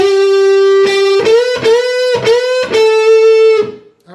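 A distorted electric guitar plays a lead line from a song, sustained bright notes with repeated picked attacks and slight bends, loud and close, ending on a fading note.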